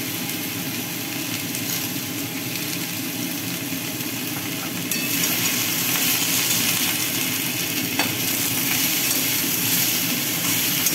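Vegetables for shukto, salted, sauté in a hot pan with a loud, steady sizzle and soft stirring scrapes, slightly intensifying midway, with no voices.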